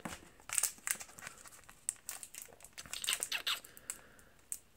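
Foil wrappers of Pokémon XY Evolutions card packs being torn open and crinkled, with close, irregular bursts of crackling and rustling and short pauses between them.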